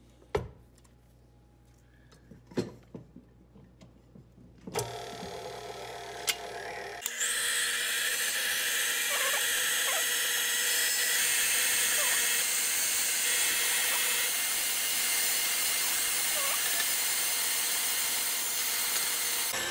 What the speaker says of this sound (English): Now we're going to put the yolks and the sugar